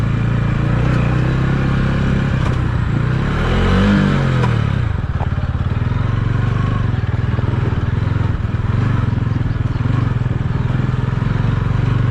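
A TVS Ronin 225 motorcycle runs continuously off road. The engine drones loud and close, with a brief rev and pitch sweep partway through, and clatter and scraping from the rough track underneath.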